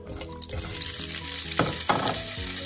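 Shrimp dropped into a tablespoon of hot oil in a pan on high heat, sizzling loudly and close with bursts of crackle as they are stirred.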